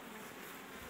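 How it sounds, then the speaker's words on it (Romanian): Honey bees crowd a busy hive before the acacia bloom, a steady, faint, dense buzzing hum with no voices. "Albină foarte multă"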